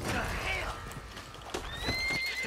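A horse in a cowboy video game whinnies loudly with a rising and falling neigh, mixed with hoof clip-clops and other game sounds, and a second shrill neigh follows.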